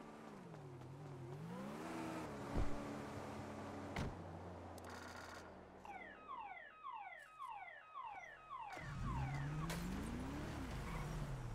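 A car driven in a roleplay video game revs and accelerates, then tyres skid. Rapid, repeated electronic chirps like a car alarm follow, and the engine swells again near the end. No one talks over it.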